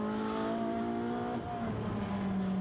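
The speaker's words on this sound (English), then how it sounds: "Down through the gearbox into turn 1, the right-hander." A Ferrari Challenge race car downshifting into turn 1 at Mugello, its engine note stepping down through the gears with sharp tonal drops, loud and close throughout a brief burst.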